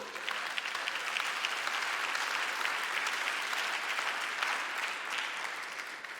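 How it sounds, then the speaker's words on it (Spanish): A church congregation applauding, dense sustained clapping from many hands that holds steady for several seconds, loud and close with no talk over it. "Dale un aplauso fuerte al Señor."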